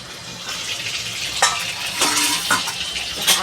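Pabda fish frying in a pan of oil, a steady close sizzle broken by a few brighter spatters and stirring clinks.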